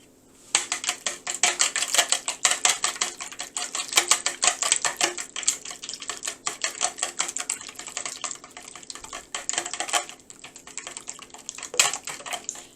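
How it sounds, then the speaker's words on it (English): Three eggs being whisked briskly in a bowl, a fast, steady run of close clicking and tapping of the whisk against the sides that carries on almost without pause for about twelve seconds, with no talking. "3 eggs. Give it a little whisk."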